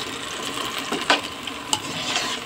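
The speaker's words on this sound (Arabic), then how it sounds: "قلبي بسرعه عشان ده فيها نشا" Thick chicken teriyaki sauce with starch stirred in a pan, soft scraping and sizzling with a few sharper utensil clicks against the pan, close and alone.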